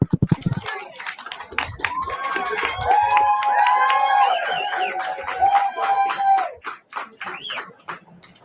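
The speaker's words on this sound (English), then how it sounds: "Again, the applauding is just burning time." An audience at a school board meeting applauds, with a burst of clapping at the start and then scattered claps continuing under loud, overlapping voices and cheering.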